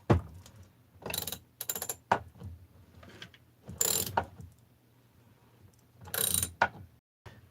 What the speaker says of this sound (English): your right hand can use a ratchet and just bring the crank right in